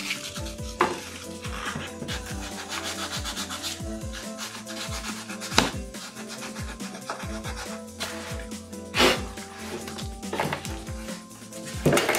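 Sanding wood filler off the edge of a homemade bowed guitar body, a steady rhythmic scratchy rubbing of repeated strokes, loud and close with no talking.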